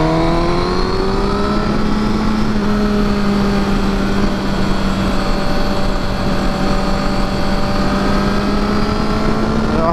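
A Honda CBR1000 motorcycle with a servo eliminator and stock exhaust revs loudly under throttle, a close, sustained engine howl whose pitch climbs then holds steady.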